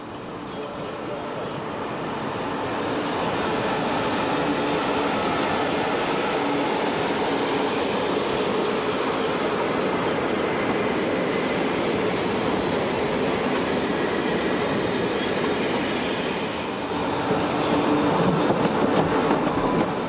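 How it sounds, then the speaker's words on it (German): A Leipzig S-Bahn train of double-deck cars hauled by a class 143 electric locomotive runs through the main station in the 1990s, a steady loud rumble of rolling wheels with some squealing that swells and continues for twenty seconds. "Die Leipziger S-Bahn fährt mit Doppelstockwagen und mit der Baureihe 143."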